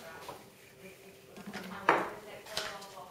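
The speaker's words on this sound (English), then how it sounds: "I need to mix that in another mug" A spoon clinks and scrapes against a ceramic mug while milk is mixed, with soft knocks building to a sharper clatter near the end amid quiet kitchen handling.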